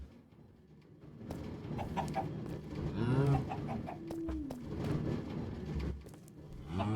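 A chicken clucks in the video game Aethercraft, with several short bird calls rising over a steady background of game ambience and noise.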